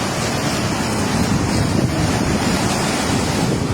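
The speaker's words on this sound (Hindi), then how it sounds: "पुल के ऊपर से भी पानी जा रहा है।" Ravi River floodwater rushes over the bridge at Head Sidhnai in a loud, continuous roar of turbulent water mixed with wind buffeting the microphone, unbroken from start to finish.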